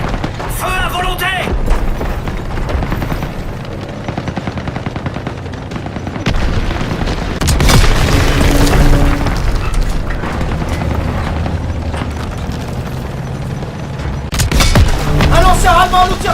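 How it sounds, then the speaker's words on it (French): Small arms gunfire in a World War II battle, with dense bursts and cracks rolling through a loud, chaotic fight, heavier booms rising around the middle and end, while voices shout beneath the barrage. "Tire d'armes légères, ils attaquent les nôtres."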